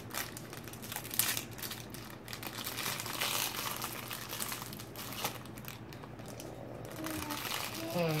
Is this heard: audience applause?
no